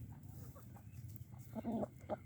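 Quiet clucking of chickens, a few short throaty calls close by over a low background murmur.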